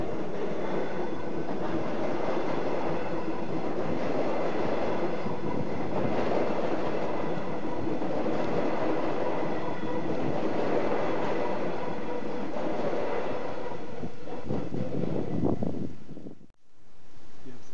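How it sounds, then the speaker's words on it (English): A train rumbles along continuously, with steady rolling noise and faint rail clatter, loud and close, before cutting off abruptly near the end. "Is the train going to Brisbane?"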